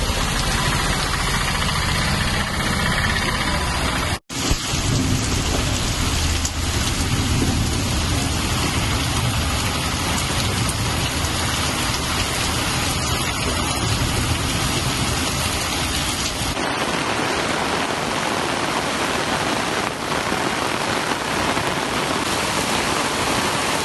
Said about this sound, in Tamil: தூத்துக்குடி மாநகர பகுதியில் அதிகாலை முதல் கனமழை பெய்து வருகிறது